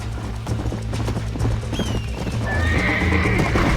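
Horse from the Red Dead Redemption game gives a loud, drawn-out neigh over steady clip-clop hoofbeats of galloping, with music or ambience underneath.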